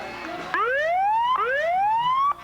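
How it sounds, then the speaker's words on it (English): A Hoffman Estates police squad car in the 1998 Streamwood Summer Celebration Parade sounds its siren: three rising wails, each sweeping upward and cut off sharply, loud and close. "Does the siren work?"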